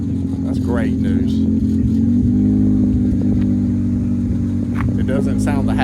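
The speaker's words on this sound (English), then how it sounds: "the car just started right up. It sounds really good." A 1999 Acura Integra engine idles steadily just after starting, a close, even drone with a slightly uneven note, while people talk over it.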